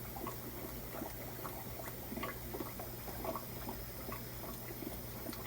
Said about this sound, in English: Let's let the bag get filled up with some tank water.